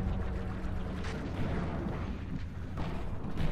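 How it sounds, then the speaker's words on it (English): Explosive barrels detonate in the game Call of Duty: Ghosts, a dense, continuous rumbling roar of blasts with a few sharper bursts, with no quiet gaps. "Explosion barrels."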